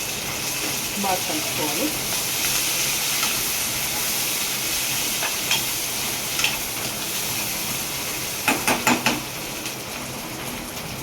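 Curry leaves sizzle in hot oil for a sorakkai (bottle gourd) curry, a steady broad hissing with a few sharp crackles and pops, while someone speaks over it.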